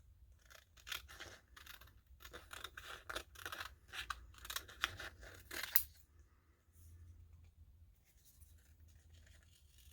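Scissors cut a craft piece for a holiday candle holder, giving a run of close, crisp snips at an irregular rhythm for about six seconds before going quiet.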